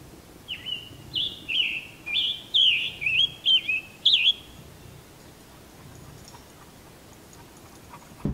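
A garden songbird, not a robin, sings a short series of about eight clear, warbling chirps in quick succession, fairly near, then goes quiet over faint background ambience.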